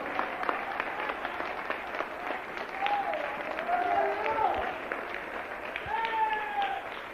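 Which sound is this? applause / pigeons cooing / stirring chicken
applause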